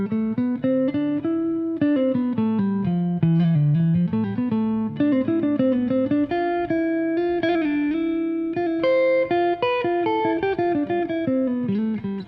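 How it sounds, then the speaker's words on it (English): A jazz guitar runs up and down the Phrygian scale in quick single notes, a continuous melodic line of clear plucked tones, close and unaccompanied. "So you hear the Phrygian scale has something like a flamenco vibe"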